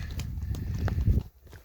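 Hooves of a saddled young mustang in training clip-clop on a paved street, a few close, even footfalls with a quiet pause at the end.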